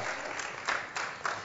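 A church congregation applauds, a short, dense burst of hand clapping with a few sharper swells, moderately distant and fairly soft, with no speech over it.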